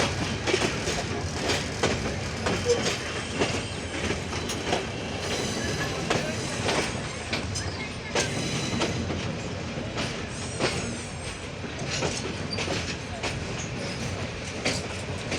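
Two passenger trains, the Karatoya Express and the Dolanchapa Express, cross near Bamondanga with a steady loud rumble and rhythmic clickety-clack of wheels, plus faint squeals, continuous throughout.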